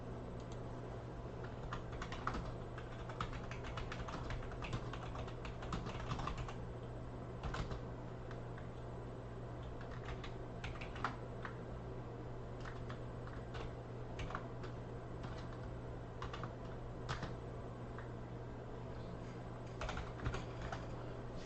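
Steady typing on a computer keyboard, a fast patter of soft key clicks with brief pauses, continuing without talk over a constant low hum.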